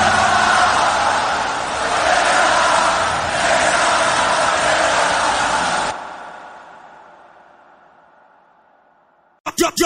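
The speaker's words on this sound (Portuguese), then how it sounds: "E aí a torcida grita, canta, canta o quê?" A packed Flamengo football crowd at the Maracanã shouts and sings in a loud, massed roar that swells and sustains for several seconds before dropping away, then a brief sharp burst at the end.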